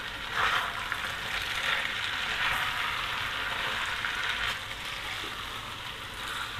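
Boiled noodles for chow mein are tossed in a hot pan, a steady broad sizzle and hiss with soft scraping stirs running continuously at moderate level, no voices.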